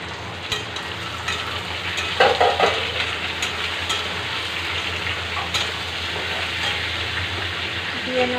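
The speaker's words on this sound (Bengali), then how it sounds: "আলু ভেজে নিয়েছি, এবার দিয়ে নেব বেগুন" Potatoes and eggplant frying in oil in a pan, giving a steady moderate sizzle with occasional spoon clinks and scrapes, close, with no speech over it.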